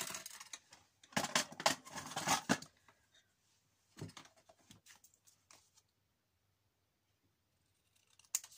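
Scissors snip through paper for a small handmade notebook, a dense run of close, crisp cuts followed by a few shorter, quieter snips and a final single snip after a silent pause.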